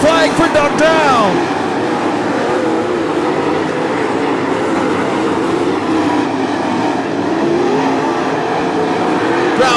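Late model race cars at Attica Raceway Park produce a loud, continuous engine roar on the final lap, with an announcer calling the race over it.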